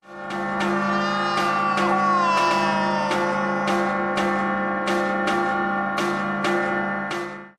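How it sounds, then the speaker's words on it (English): Church tower bells rung by pulling the ropes, loud and close, with a steady series of about a dozen evenly spaced clangs whose ringing tones overlap and sustain throughout, from an animated series. "Talia, losing control over her senses, grabs onto the bell ropes, and the resulting sound sends Vertigo for a swim in the river."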